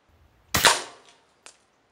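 A single sharp gunshot cracks outdoors, loud and close, with a long rolling echo trailing off behind it and a faint second report a moment later.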